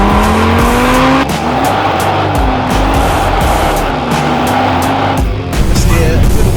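A BMW M140i or Audi RS3 launched hard with oversteer, engine roaring loud and close as revs climb through gear changes, tyres squealing and skidding, while someone talks over it.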